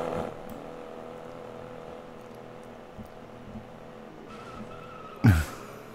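Tire skid from a motorcycle drifting in Roblox Vehicle Simulator: a steady engine drone with a short, loud squealing burst near the end.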